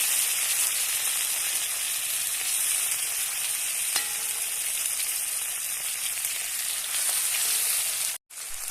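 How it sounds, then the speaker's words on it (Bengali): Onion, garlic and tomato fry in a pan with a loud, continuous sizzle and occasional stirring clicks, cut off by a short gap near the end. "হালকা লাল লাল করে দেখো ভেজে নেওয়া হয়ে গেছে পেঁয়াজ রসুনটা"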